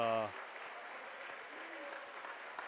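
A high school basketball crowd at an East District playoff game applauds and cheers for a junior player in a continuous clapping wash that follows a short voice at the start.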